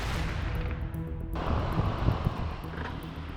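The propeller engine of a light aircraft on a grass airfield cranks and then catches, jumping into a loud, steady, close-up roar that continues to the end.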